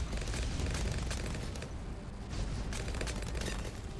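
Rapid, dense bursts of cartoon explosions from the tower-defense video game Bloons TD 6, a near-continuous loud barrage of booms and blasts with no talking.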